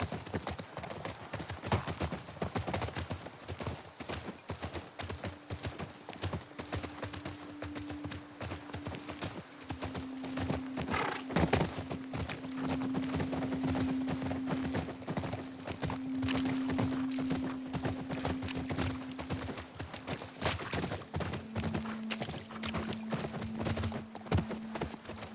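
Horses in The Last of Us Part II game plod with steady clip-clop hooves throughout, joined by an occasional whinny and a sustained tonal drone, with faint voices in the background.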